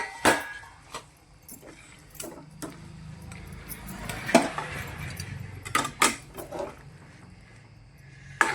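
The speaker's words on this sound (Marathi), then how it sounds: "मासे टाकते धुवून घेतलेले, ते हलवून घेते" Intermittent metallic scrapes and clinks of a utensil stirring washed eel pieces in a pot for fish curry, sharp taps scattered over a quiet, low background hum.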